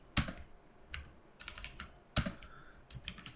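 Someone types code on a computer keyboard in short bursts of quick, crisp key clicks, with a couple of louder single strikes. The typing is close and quiet, and no one talks.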